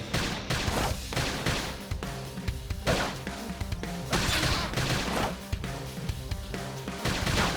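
Rapid bursts of gunfire in Xenoblade Chronicles X: Definitive Edition crackle and pop in a dense, continuous barrage, with impacts and explosions layered over a loud battle soundscape.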